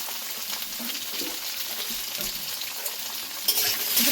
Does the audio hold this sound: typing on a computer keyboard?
no